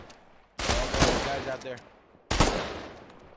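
Gunfire from a Dune video game comes in two sharp, loud bursts of rapid shots, each fading into a short tail, with a voice speaking over the action.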